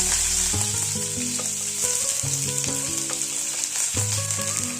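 Mustard seeds splutter and sizzle as they fry in hot oil for a ladies finger poriyal. The crackling frying noise runs steadily throughout, mixed with tonal background sounds.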